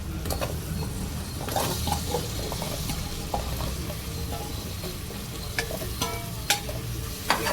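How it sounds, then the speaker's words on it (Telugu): Pieces of taro (chamagadda) fry in a pan for a tomato curry, a loud continuous sizzle with steady crackling and occasional utensil clinks and scrapes close by, and no speech. "ఇవి వేయించుకుందాం కొద్దిసేపు"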